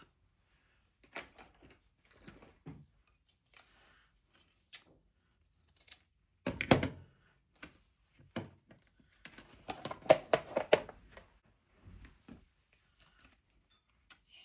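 Scissors snip a small piece of purple fabric trim in a quiet room, with sparse, sharp clicks and a brief cluster of quick cuts, close and fairly faint, no talking.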